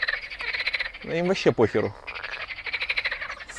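Many frogs croak in a pond, a dense rapid rattling chorus that runs throughout, close and fairly loud, while someone speaks briefly over it in the middle.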